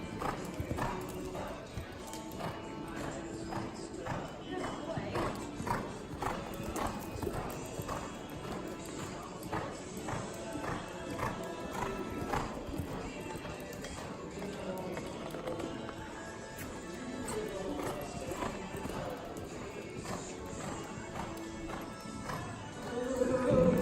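Hooves of an ex-racehorse loping around an arena make steady, rhythmic clip-clop beats, close and continuous, with a neigh-like sound and some background noise.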